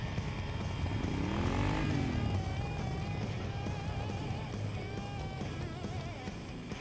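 A 2006 Thunder Cycle custom motorcycle, designed and built by Eddie Trotta, rolls along at moderate distance, its engine a steady low rumble with a brief pitch sweep as it passes or shifts.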